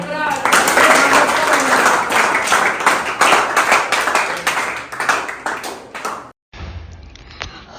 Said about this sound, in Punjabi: ਚਲੋ ਤਾੜੀਆਂ